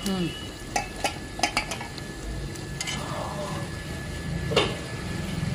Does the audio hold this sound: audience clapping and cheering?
no